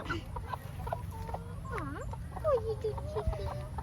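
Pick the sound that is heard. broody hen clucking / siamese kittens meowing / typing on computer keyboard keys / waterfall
broody hen clucking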